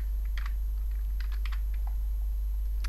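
Typing email addresses on a computer keyboard, light scattered key taps in uneven bursts over a constant low electrical hum.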